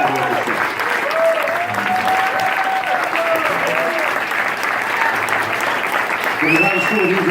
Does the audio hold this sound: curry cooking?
no